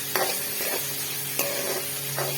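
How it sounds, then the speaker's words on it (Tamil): Onions sizzle in hot oil while a spoon scrapes the pan in a few slow, regular strokes. "இந்த எண்ணெயில் நல்லா வதங்கணும்."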